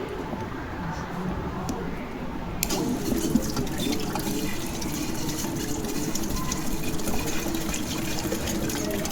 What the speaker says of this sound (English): the water flows and touches the turbine, and the turbine rotates